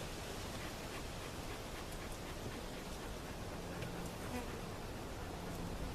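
Worker bees buzz in a steady, dense drone during a beehive inspection after a cutout, a continuous swarm hum close by with no talking.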